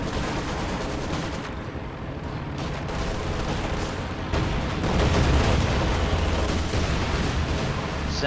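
Incendiary strike detonating in a war strategy game, a dense, loud wash of rumbling blasts and crackling fire that swells partway through and keeps roaring steadily to the end, with no talk.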